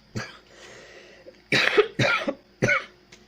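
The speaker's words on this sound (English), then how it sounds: "I know I just coughed into my hand" Several harsh coughs close by: one short cough, a pause, then three more in quick succession.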